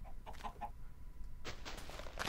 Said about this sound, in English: Where are you, chicken?